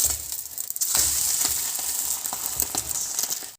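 A dosa fries in oil on a pan after being flipped, giving a continuous crackling sizzle with small pops. It is steady and close, with no talk, and cuts off abruptly at the end.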